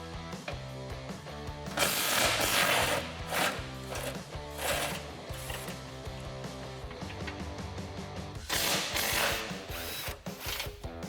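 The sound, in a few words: ratchet with 18 millimeter socket loosening skid plate bolts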